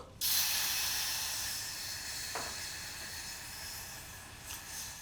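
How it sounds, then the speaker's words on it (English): Fresh orange and lime juice hits a hot pan with a sudden loud sizzling hiss that slowly fades into a steady steamy crackle, with a few faint clicks and no talking. "I'm going to add the juice now to stop the cooking"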